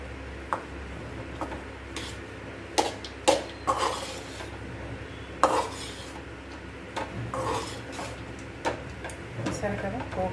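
Pulihora rice being mixed by hand with tempering in a vessel, giving soft scattered clinks and scraping stirs at close range, loudest around the middle and louder again at the end, with a faint steady background hum.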